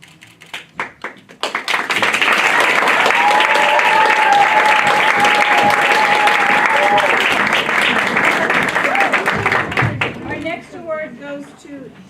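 A class moving-on ceremony: after a few claps, the audience breaks into loud, steady applause after a candle is lit, then it fades as someone starts speaking.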